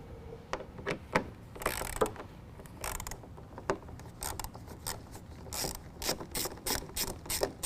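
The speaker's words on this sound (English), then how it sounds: "we're going to remove six 10mm bolts" Repeated close ratchet clicking as a wrench backs out 10 mm bolts beneath a car headlight, in short irregular bursts with brief pauses between strokes and no talking.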